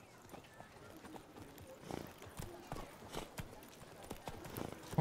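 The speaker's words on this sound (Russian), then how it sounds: "О, моя лошадь" Horse hooves in The Witcher 3: Blood and Wine, a steady walking clip-clop close by, with faint game ambience and a short snort.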